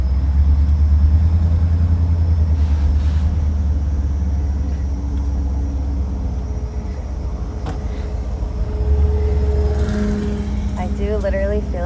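A 1956 Ford Thunderbird under way, its low engine rumble steady and close from inside the cabin, with a person speaking over it toward the end.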